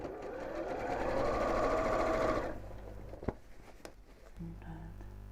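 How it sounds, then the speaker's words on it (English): A sewing machine stitches along the raw edge of fabric in a fast, steady whir for a couple of seconds, then stops, leaving a few clicks and handling noises with light background sounds. "just sewing along the edge of the Decaville."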